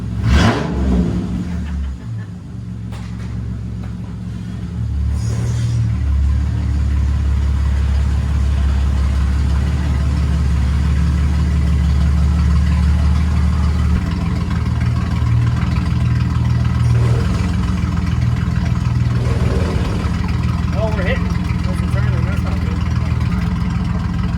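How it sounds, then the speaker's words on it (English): A 1965 Ford engine idles loud and steady in a low rumble for most of the stretch, with a brief rev near the start and a person talking briefly over it. "God, I forgot how good this thing sounds."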